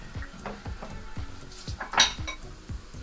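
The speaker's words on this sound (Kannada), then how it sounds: "ಈ ಕಡೆ ನಾನು ಪಾತ್ರೆನ ತೊಳೆದು ಬಿಡ್ತೀನಿ" Dishes, pots and pans being washed by hand at a kitchen sink while roti cooks nearby, with repeated close clanks and scrapes of metal cookware and cutlery in an uneven rhythm, one brighter clatter near the middle.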